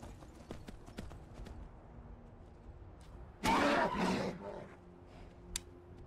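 Horse hooves clip-clop steadily in the video game Skyrim, a quiet rhythmic patter broken by a brief louder rough burst near the middle.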